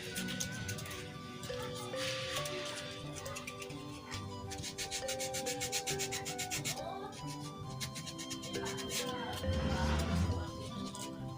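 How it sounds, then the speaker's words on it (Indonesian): Rapid rasping strokes of 240-grit sandpaper rubbing against a carved wooden wayang golek puppet, repeated in quick bursts, close by with a steady background hum. "Ya kantun ngalemeskeun ku amplas 240 baraya."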